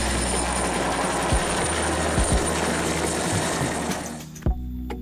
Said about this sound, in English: Wow, what it is? Wow, helicopter.